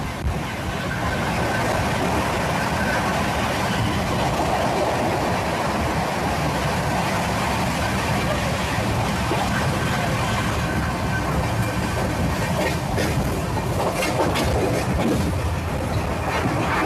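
A Humsafar Express train running past Annavaram, a continuous loud rumble and rattle of the carriage throughout, with faint clicking toward the end.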